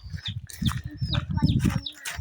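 A hen clucks repeatedly up close in short, busy bursts, with a few higher squawks mixed in.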